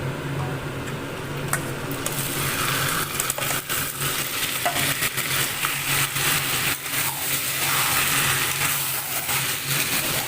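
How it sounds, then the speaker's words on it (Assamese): Goat meat stir-frying in pure mustard oil in a pan on a gas stove, a steady, close sizzle with continuous scraping and stirring throughout, no voices. "এতিয়া এইখিনি এনেদৰে বহুত সময় লৰাই ভাজিব লাগিব।"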